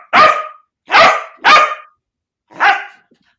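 A dog barks loudly and close by, three quick barks in a row, then a pause and a fourth bark, with no voices.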